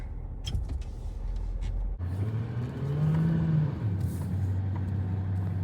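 A white truck drives past on a road, its engine a steady near rumble that rises into a louder drone midway, with no talk.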